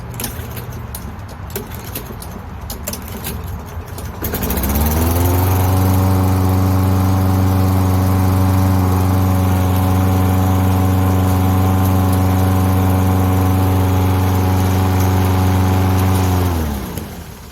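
Lawn mower engine during a repair test: keys jangle briefly, then the engine starts and runs at a steady loud drone for about twelve seconds before cutting off.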